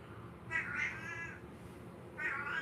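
A house cat meows twice, each call a rising, tonal cry spaced about a second and a half apart, fairly close over a quiet indoor room with no talk.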